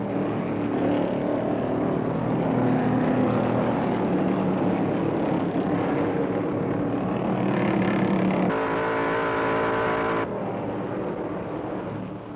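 1971 NASCAR Grand National stock cars race at Ontario Motor Speedway at the green flag, with a steady, loud roar of engines that holds throughout and a harmonic whine that rises and passes near the end.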